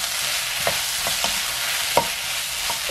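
Onions stir-fry in a pan over high heat, with an even hiss of sizzling and a few sharp clinks and scrapes from the spatula.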